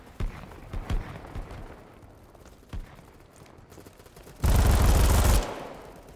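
Kriss Vector submachine gun fire in the game Battlebit: a few scattered single shots, then one loud, dense automatic burst lasting about a second near the end.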